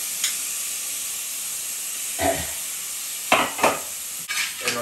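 Two tomatoes go onto sizzling mutton liver pepper masala, a loud, steady hiss and sizzle broken by several short bursts of stirring and spattering.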